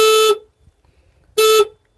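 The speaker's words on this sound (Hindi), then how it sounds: "तो हॉर्न की जो आवाज़ है वो भी अच्छी है" Two loud, sharp horn blasts from a 2022 Bajaj Atul Rik CNG BS6 auto rickshaw, each a steady electric beep about a third of a second long, separated by a second of near silence and sounding right up close.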